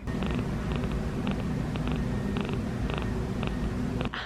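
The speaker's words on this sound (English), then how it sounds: "Oh, she's purring here." An underweight kitten purrs steadily up close, a low continuous rumble with soft rhythmic pulses and faint higher clicks throughout.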